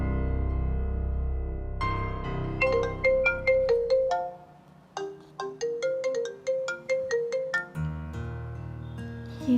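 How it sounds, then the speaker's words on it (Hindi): A mobile phone rings with a bright electronic ringtone, two bursts of quick repeating melodic notes separated by a short pause, loud and close with no talking over it. "ये तो तैमूर का फ़ोन है"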